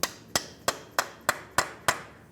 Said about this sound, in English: Use a hammer and punch, come right in the center of that axle, and drive it out of the wheel bearing.